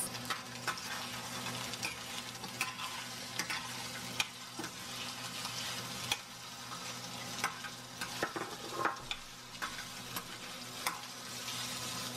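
Potato pieces frying in hot oil for a beef mechado, a steady close crackling sizzle with scattered sharp pops and occasional stirring clicks throughout, no talking.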